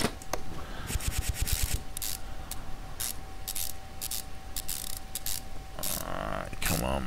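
Ratchet clicking in quick bursts while working a bolt loose on a car in Car Mechanic Simulator 2015, with bursts of mechanical whirring and gear noise between pauses, fairly quiet overall.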